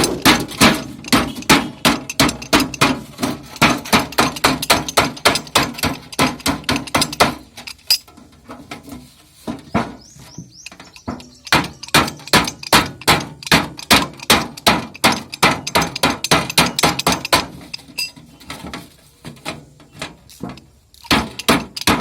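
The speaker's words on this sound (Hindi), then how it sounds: "उसके बाद लकड़ी के गत्ते पर रखकर उसको कुछ इस तरह से आप ठोकें।" A bent sheet of oil tin, cut from an oil can to make a tree guard, is hammered flat on a wooden board. Loud, close blows ring out in rapid, steady runs, with a short, quieter pause partway through.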